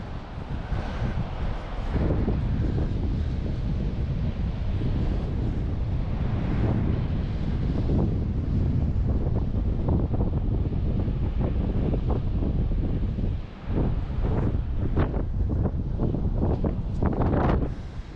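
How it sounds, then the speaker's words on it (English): Strong, steady wind roars across the microphone over crashing North Sea surf on a beach in Scotland, with waves breaking repeatedly throughout, loud and close. "Those waves are massive."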